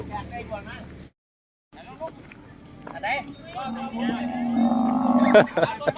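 Beef cattle low repeatedly at a busy livestock market during the Songkran holiday, with several moos rising through the second half over steady crowd chatter and people talking nearby; a brief dropout occurs early.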